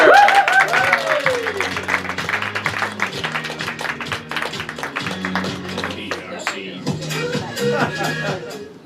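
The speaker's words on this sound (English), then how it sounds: "give a big PRC round of applause for a very good friend of mine, Mr. David Warner." Audience applause at an improv comedy show, a loud burst of clapping that gradually thins and fades, with music playing beneath and a few voices in the crowd.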